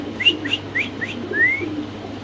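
Pigeons at a pigeon market give a few short rising chirps and whistle-like calls, then one longer upward whistle, fairly close over a low steady background hum with no talk.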